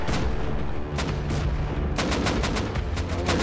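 Gunfire in the survival game Rust as raiders shoot at a tool cupboard during a base raid, a loud rapid string of shots that rises into dense bursts near the end.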